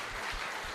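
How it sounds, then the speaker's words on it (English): A brief burst of audience applause at a football club celebration, dense, even clapping filling the moment, loud and close. "if we could please give them a big round of applause"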